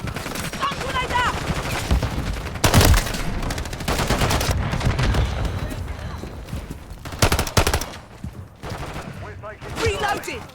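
Rapid gunfire and sharp bursts from a stun grenade in a shooter video game, dense and loud throughout, with several heavier bangs rising above the clatter.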